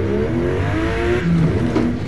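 A race car engine in Forza Motosport revs hard with layered, rising and falling harmonic whines as the car brakes and slides through a turn. The loud, steady motor noise fills the clip without talk.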